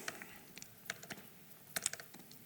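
Light clicking of keys on a new MacBook laptop keyboard, irregular taps in small bursts, close and quiet with no talking.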